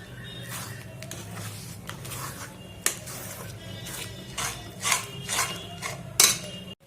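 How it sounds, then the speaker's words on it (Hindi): Thick besan (gram flour) batter is stirred continuously in a pan as it cooks down to a halwa-like consistency, a utensil scraping and knocking against the pan in soft, uneven strokes with occasional louder taps. "तो इसे लगातार हमें चलाते रहना है।"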